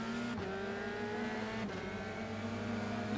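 Open-wheel F3 race car engine in the iRacing sim at Sebring, droning loudly and steadily as it builds speed, with two brief dips in pitch, no talking.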